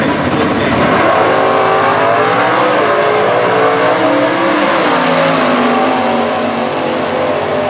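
A Challenger drag car with a snorkel hood and a 440 big-block engine roars loud and close, racing in stock eliminator qualifying with a sustained, heavy engine note that climbs in pitch as it accelerates.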